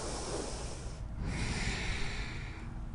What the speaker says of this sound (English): Last 2 breaths.